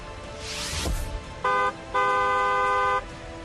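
Two car horn honks, a short blast followed by a longer sustained one, loud and close, after a brief whoosh of passing traffic.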